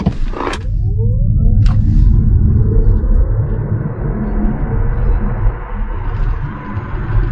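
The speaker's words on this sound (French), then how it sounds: "Allez, on va se faire un petit 0 à 100 là." An electric car accelerates hard from 0 to 100 km/h, a loud continuous road and motor rumble with a rising whine building steadily after a couple of brief high clicks at the start.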